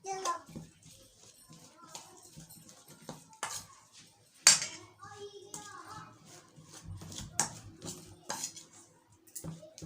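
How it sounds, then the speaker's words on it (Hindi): Fish marinade being mixed with chilli and garlic-ginger paste for a fish fry, heard as scattered clinks of a spoon against a bowl and soft hand-mixing sounds, with a voice faintly in the background. "अब इसको हम अच्छे से मिक्स करेंगे"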